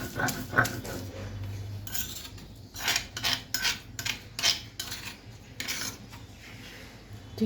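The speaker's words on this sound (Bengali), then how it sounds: "এতটাই ছোট চিংড়ি যে আসলে এক বাটা দিলেই এটা মিহি হয়ে যায় তো এভাবে আমি সবগুলো চিংড়ি মাছ এভাবে বেটে নেব" Small shrimp are ground to a fine paste on a grinding stone, heard as repeated rough rasping strokes and scraping rubs at an irregular rhythm, close and fairly quiet, with no talking.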